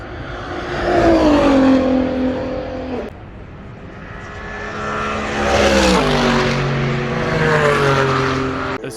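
Race cars at a 24-hour endurance race circuit with 161 entries roar past nearby, loud engine notes sweeping down in pitch as one passes, followed by another rising and falling swell a few seconds later.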